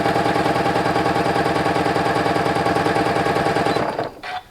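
A sewing machine runs steadily while stitching around the edge of a quilt, a loud, even rapid mechanical whir close up that slows and stops near the end, with no talking.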